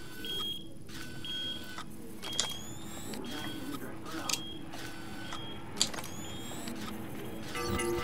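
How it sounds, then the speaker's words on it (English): Repeated short electronic alarm beeps in Watch Dogs 2, a steady pattern of high chirps every second or so over a low mechanical hum, with a voice talking intermittently. "Hit the alarm."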